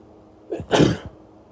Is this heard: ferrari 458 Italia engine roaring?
no